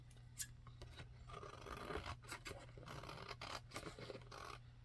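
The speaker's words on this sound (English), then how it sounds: "And glue it down, and then I'll trim that off." Scissors trim a glued paper edge in a card-making craft project, producing a close, quiet series of crisp snips and scratchy cuts in an even rhythm.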